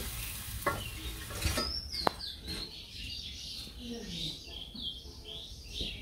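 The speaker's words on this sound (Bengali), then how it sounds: "খালি লবণ দিয়ে আর জল দিয়ে তেল দিয়ে ভাজি" Leafy greens fry in oil with salt and water at an outdoor village cooking spot, a soft sizzle and stirring scrapes heard alongside birds chirping and calling nearby.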